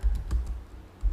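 Keys clatter on a computer keyboard as a command is typed, a short run of close, distinct clicks with a brief pause before a final burst of keystrokes.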